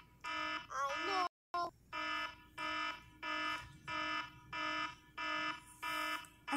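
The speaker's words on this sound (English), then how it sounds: "I think you just got annoyed by the alarm clock." An alarm clock rings in steady repeated electronic bursts, about nine pulses with short gaps, loud and close, while thunder rumbles faintly in the background.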